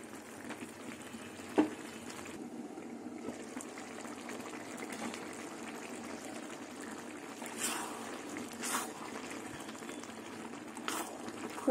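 Potatoes boil in water inside a covered pot, giving a steady low bubbling simmer with occasional louder gushes and hisses, continuous and close, with no talking.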